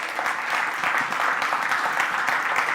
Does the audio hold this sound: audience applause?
yes